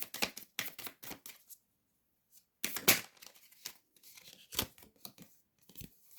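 Tarot cards being drawn and handled for a reading: quick papery snaps, slides and flicks in irregular clusters, separated by short silences, close and fairly quiet.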